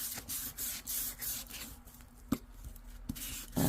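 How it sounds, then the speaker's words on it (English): Sandpaper rasps along the edges of washi tape ephemera in quick repeated strokes, close and fairly soft, with a few light taps between passes. "I'm just sanding it along there just to give it a sandy look, so to speak."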